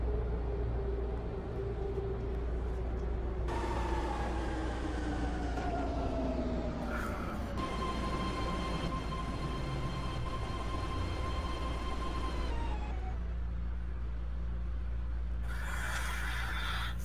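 A ten-car, two-door BART train in Roblox rolls along the rails toward Pittsburg/Bay Point, with a low steady rumble under gliding whining motor tones that fall and then hold, ending with a brief hiss and a rising electric whine.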